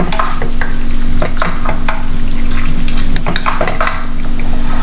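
A spoon stirs shrimp and jackfruit curry in a pan, loud and close, with repeated scraping strokes and a faint sizzle over a steady hum.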